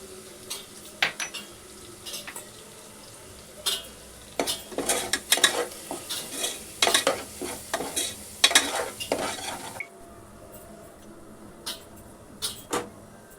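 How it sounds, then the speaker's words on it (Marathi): Spices with turmeric and Malvani masala sautéed in a pan, heard as irregular scraping stirs and clinks of a utensil against the pan over a soft sizzle, close by. "बस 2 मिनटं परतून घ्यायचं आहे."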